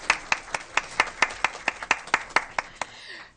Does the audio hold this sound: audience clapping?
yes